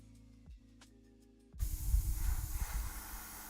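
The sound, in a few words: spray paint on Warhammer 40k miniature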